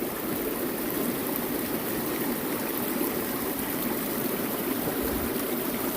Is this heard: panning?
yes